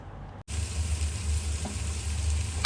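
Egg bhurji sizzles steadily in a hot pan while being stirred, a close, continuous frying hiss with faint scrapes, after a brief cut near the start.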